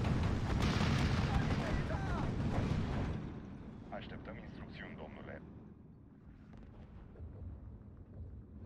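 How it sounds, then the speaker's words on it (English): 120mm mortar fire in Steel Division 2, a WWII strategy game, set along a road: heavy, rumbling barrages and booms dominate the first few seconds, then fade to distant battle noise while someone talks. "my 120mm mortars have been demolishing stuff on this road"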